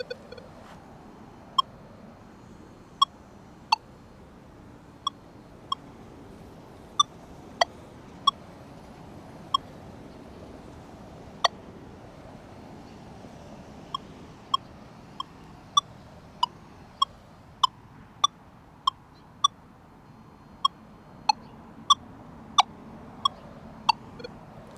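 A $500 metal detector set to a -1 iron bias sweeps a nail test, giving a long series of short, sharp electronic beeps at irregular intervals over a quiet background.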